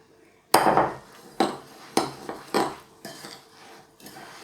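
Melted butter being stirred into biscuit crumbs in a bowl for a no-bake blueberry cheesecake, a series of close, distinct scraping knocks of a utensil against the bowl, about six strokes.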